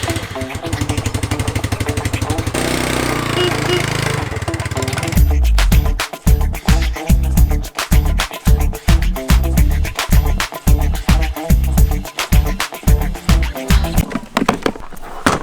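A motor scooter carrying a rider and a passenger on roads in Vietnam, the engine humming steadily at first, then revving and pulsing in repeated surges as it pulls away, loud and close throughout.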